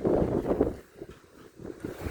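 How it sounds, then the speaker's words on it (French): Strong, cold, dry bise wind blowing hard in winter, rushing and buffeting the microphone in loud gusts that ease briefly mid-way before picking up again. "Ça souffle bien, en plus c'est vent de la bise"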